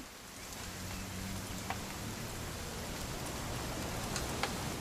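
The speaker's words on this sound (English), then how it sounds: "It's gonna rain the whole weekend, isn't it?" Steady video-game rain falls continuously, a broad even hiss with a few scattered drop ticks, fairly soft and without any voices.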